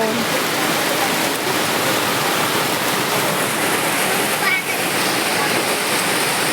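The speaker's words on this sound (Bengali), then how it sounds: "প্রচন্ড বৃষ্টি হচ্ছে" Heavy rain pours steadily at a flooded home, a dense continuous hiss filling the whole stretch, with someone speaking faintly beneath it.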